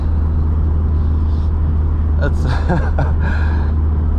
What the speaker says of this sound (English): I just wanted to do a pull and just feel the difference between my dad's car and my car